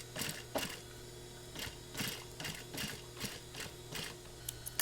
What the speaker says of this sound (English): I'm sewing in where the previous stitch was.